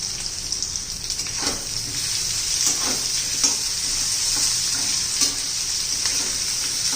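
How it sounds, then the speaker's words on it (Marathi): Potatoes and onion are stirred and sautéed in hot oil in a pan, giving a continuous bright sizzle with periodic scraping strokes of the spoon, close and steady with no talking. "त्याच्याबरोबर बटाटा आहे ना असा मस्त परतून घ्यायचा"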